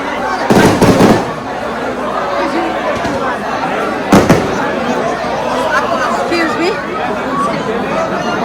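Fireworks going off at night on the eve of Eid al-Adha 2025: two sharp, loud bursts, one early and one midway, over a steady background of crowd chatter.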